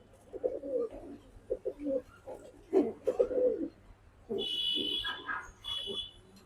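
Soft, low pigeon coos repeat in short rounded bursts close by, and a brief higher chirp comes in near the end.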